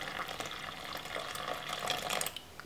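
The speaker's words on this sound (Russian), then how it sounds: "Добавляем оставшуюся воду." Water trickles and splashes softly as the last of it is poured into a bowl of flour, salt and yeast for Megrelian khachapuri dough, faint and continuous for a few seconds.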